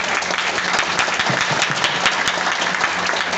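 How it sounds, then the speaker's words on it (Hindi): Loud, dense applause from an audience at a Hindi business plan presentation by a marketing company, steady and sustained throughout without talk. "मैं चाहूंगा आप सभी से जोरदार धमाकेदार ताली"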